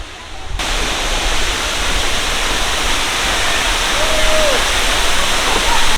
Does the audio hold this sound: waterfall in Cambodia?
yes